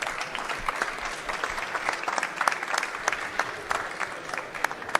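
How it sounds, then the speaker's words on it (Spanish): An audience at a Spanish-language public talk gives a steady burst of hand clapping that holds at an even, moderate level for about five seconds. "un fuerte aplauso"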